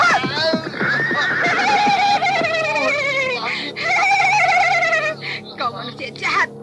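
A horse neighs in a loud, drawn-out whinny, a sound effect in an Indonesian horror audio drama, followed by a second shrill whinny and faint clip-clop, standing mostly alone with little talk over it.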